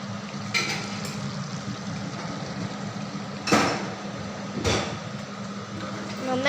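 A chicken curry with garam masala being stirred in a pan: a steady low sizzle with a few sharp scraping clatters of the spoon against the metal, close by, and no talk.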